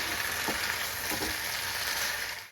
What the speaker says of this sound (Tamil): நல்லா வதக்கினே இருக்கணுங்க